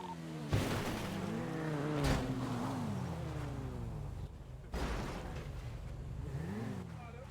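A video game car engine revs and accelerates repeatedly, pitch climbing and dropping through gear shifts, with faint voices in the background.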